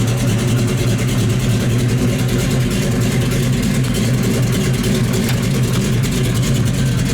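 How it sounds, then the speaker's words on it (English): Throaty 360 V8 with an aggressive cam in a 1973 Dodge Challenger, running loud and close with a steady, lumpy rumble that stays even and unbroken throughout. "it's got an awesome sound to it. Nice cam in that 360"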